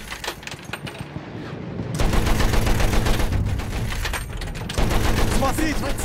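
Sustained rapid gunfire crackles continuously, dense and loud bursts blending together like a battle, with faint Russian-speaking voices underneath, in a video game battle against a zeppelin and aeroplane.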